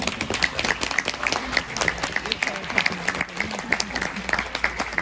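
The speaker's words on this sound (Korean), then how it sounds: "큰 박수로." A middle school audience gives a big round of applause to welcome a social welfare professor before a lecture, with rhythmic clapping mixed with voices.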